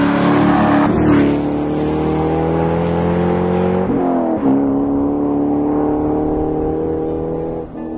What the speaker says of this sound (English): It's the engine of the Corvette that dominates the experience, providing Millennium Falcon levels of thrust with an absolute firecracker of an engine note.